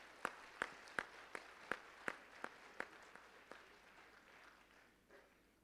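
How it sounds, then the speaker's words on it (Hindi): Clapping at a live spiritual class gathering, with sharp, slightly irregular claps near the mic for several seconds that fade into a quiet tail. "बहुत दिल से ताली बजाएं"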